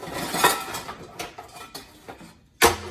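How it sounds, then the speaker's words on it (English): An air fryer basket is set down into an Instant Pot, producing a series of light metallic clinks and knocks that ends in one louder clatter near the end. "we also need to go ahead and add the fryer basket"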